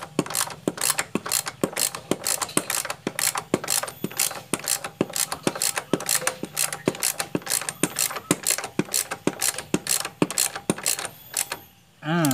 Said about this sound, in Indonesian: Baut ini kita putar keras